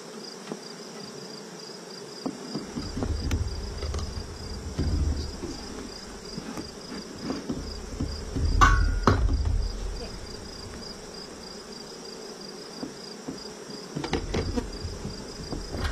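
Honeybees buzz in a low, wavering drone around hive frames that swells and fades as insects fly close by, with occasional soft knocks and rustling in the background.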